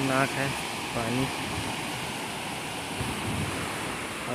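Water rushing at the Tandula dam reservoir in Balod, Chhattisgarh, a steady broadband roar like surf or wind that carries through the whole stretch, with a voice talking briefly over it near the start.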